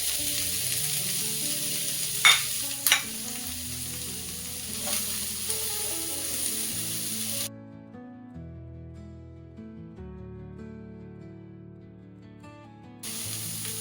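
Chopped carrots sizzle and hiss loudly in hot oil tempered with asafoetida, with a few stirring scrapes, then the frying quiets before the sizzle returns.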